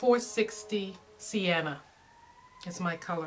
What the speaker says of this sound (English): oh excuse that noise, it's a siren.